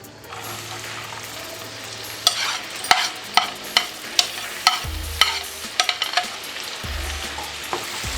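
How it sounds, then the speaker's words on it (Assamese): Chopped onions frying over high flame in a pan for paneer masala, a steady close sizzle broken by a series of sharp spatula clinks and scrapes as they are stirred, with no talking. "আৰু এইখিনি এতিয়া ধুনীয়াকৈ ভাজি ল'ম।"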